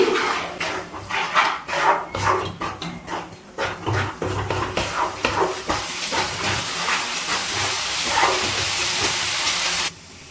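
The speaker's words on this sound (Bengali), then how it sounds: "এবারে খুব ভালো করে সব কিছু কষিয়ে নিচ্ছি।" Masala with salt and a pinch of sugar sizzles and hisses steadily in a pan while being stirred, with repeated scraping and clatter of the spoon against the pan throughout, loud and close.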